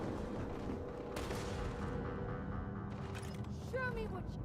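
Bursts of gunfire in the space game Starfield crackle steadily through a dense, loud mix of in-game effects, with a sharp tonal sweep near the end.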